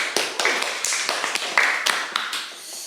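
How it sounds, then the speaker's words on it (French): A small audience claps for a few seconds, the handclaps loose and uneven, close and fairly crisp. "On peut l'applaudir, s'il vous plaît."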